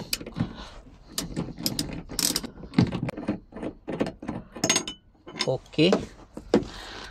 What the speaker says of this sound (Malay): Kita buka skru bahagian belakang.